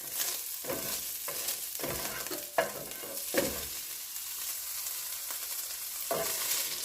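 Kroger spicy pork sausage fries over medium heat, a low steady sizzle close by with repeated spatula scrapes and stirring bursts at irregular intervals and no speech.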